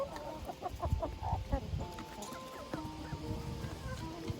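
Silky chickens, a rooster and hens, cluck softly and irregularly while feeding in a village yard, close and fairly quiet with intermittent short calls.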